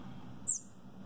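A baby bird being hand-fed gives one brief, high chirp over a quiet background hum, with no talking during the moment.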